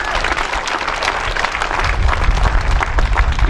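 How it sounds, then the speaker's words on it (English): Union rally crowd at an AFL-CIO event in Delaware breaks into sustained, loud applause with dense clapping and some cheering, building toward the end and filling the whole stretch without speech on top. "That's an applause line."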